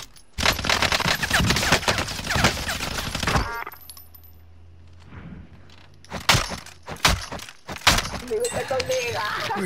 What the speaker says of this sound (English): I'm shooting at one of them